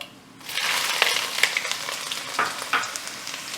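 Finely chopped ginger, about half a cup, hits hot oil with fenugreek in a pan for apple pickle, bursting into a steady loud sizzle with sharper crackles and pops scattered throughout.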